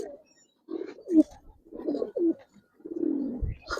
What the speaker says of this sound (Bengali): দুটোটাই মাশাআল্লাহ খুব সুন্দর কবুতর।